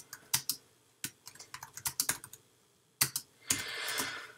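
Bursts of computer keyboard typing, sharp key clicks in quick irregular clusters with short pauses, close and fairly loud, ending in a denser flurry of keystrokes.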